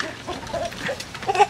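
Rooster at a home with many animals, giving short clucking calls close by amid low background noise.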